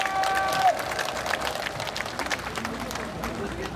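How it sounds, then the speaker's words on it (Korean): A crowd applauds at an outdoor rally against the ocean dumping of radioactive water, with a dense patter of clapping and murmuring voices at moderate distance. "박수 부탁드립니다."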